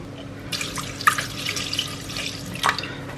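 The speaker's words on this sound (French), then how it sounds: "Je vais verser 150 g d'eau." Water pours into a Monsieur Cuisine Connect kitchen machine, 150 g in all, as a thin, steady trickle with a few drips and small splashes, close by with no talking.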